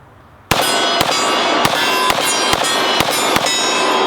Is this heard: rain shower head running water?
no